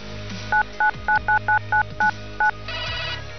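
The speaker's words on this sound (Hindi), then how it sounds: "न्यूज एक्सप्रेस के 3 अंडरकवर रिपोर्टर्स ने MMR के डायरेक्टर संजय पांडे को फोन किया" A telephone number is dialed with touch tones: nine crisp, evenly spaced beeps in quick succession, followed by a brief connecting tone.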